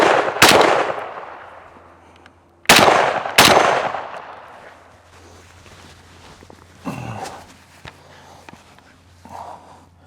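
A Springfield Armory Hellion bullpup rifle fires from the prone position: three sharp, loud shots, the last two close together, each with a ringing decay, followed by quieter shuffling, clinks and handling noise.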